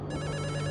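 Brief stretch of a telephone ringing in the game Return to Shironagasu Island, a continuous electronic trill at an even level with no speech.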